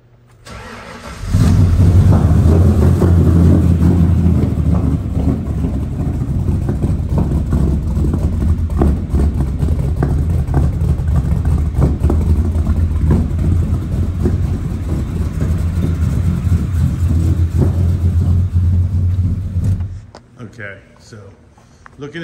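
A 1996 Ford F250 truck engine starts and runs with a deep steady idle and mild revving for about twenty seconds, then shuts off abruptly.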